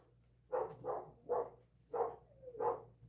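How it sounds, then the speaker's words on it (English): A dog barks in five separate bursts, fairly close and moderately loud, with a steady low hum running underneath. "That continuous barking because her master's home."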